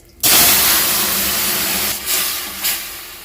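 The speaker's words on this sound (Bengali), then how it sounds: "ফোড়নটার উপর ঢেলে দিচ্ছি এই তরকারিটা।" Fish curry with giant taro is poured onto hot oil tempered with whole cumin seeds, setting off a sudden loud hiss that holds strong, then swells twice more as it settles.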